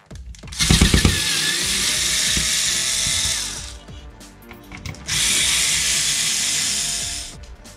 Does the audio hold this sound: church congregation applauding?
no